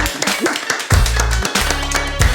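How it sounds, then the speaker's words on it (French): A French TV studio audience applauds with a burst of sharp, close claps, then a low steady hum and music-like drone run underneath as the clapping thins out. "applaudissements"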